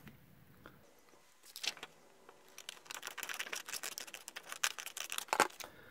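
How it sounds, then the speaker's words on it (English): Scissors snip through paper along a drawn line while cutting out an adhesive pocket for a travelers notebook. After a quiet start come close, crisp, irregular clipping sounds in quick bursts. "I'm just going to go ahead and get this cut right on the line"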